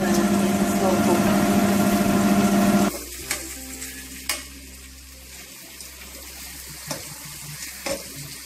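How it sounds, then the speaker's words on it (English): Ossobuco pieces brown in a hot pan, a loud, dense sizzle up close for a few seconds that then cuts off, leaving a quieter background with a few sharp clicks and knocks. "we will cook each side like for 2 minutes to get the golden brown"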